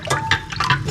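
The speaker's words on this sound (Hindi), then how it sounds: "ये इमली जो हमने उबाल ली है इसको इसमें डाल देंगे।" Boiled tamarind water is poured into a bowl for gol gappay, a close, wet splashing and trickling in several short bursts over about a second.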